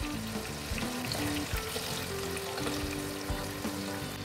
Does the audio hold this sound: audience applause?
no